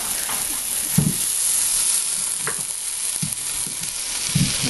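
Pot roast meat sears in a hot pan with a loud, steady sizzle and hiss, broken by a few soft thumps and stirring bumps as the meat is moved.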